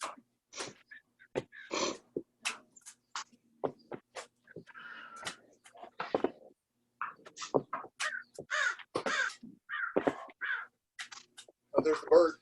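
A crow caws repeatedly in short harsh bursts, fairly near and loud, in an irregular series across the whole stretch, with people talking in between the calls.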